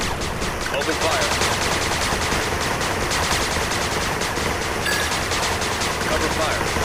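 Sustained rapid gunfire in the video game 8-Bit Armies: dense machine-gun fire that stays loud and continuous throughout, with a game voice heard briefly.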